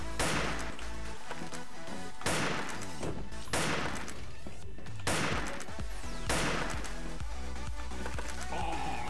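Gunfire in a police-themed video game, with loud repeated shots cracking at regular intervals over a dense, steady game soundtrack.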